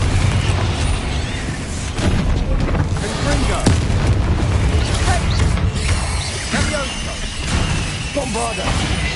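Confringo fire spell explosions in Hogwarts Legacy, a dense run of loud booms and crackling blasts that fills the whole stretch, with voices calling out through the chaos.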